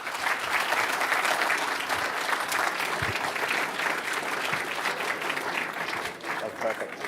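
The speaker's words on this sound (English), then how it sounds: "Please, round of applause, Sarah Longfield." Sustained applause from an audience at a guitar festival stage, steady clapping that fills the whole stretch and tapers slightly near the end.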